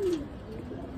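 Pigeons being given feed, a single short close coo over a steady background murmur.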